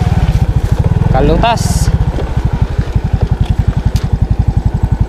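A motorcycle engine runs close by with a fast, even putter pulsing throughout, briefly revving in the middle, while a voice speaks over it beside a river during a moto-camping trip.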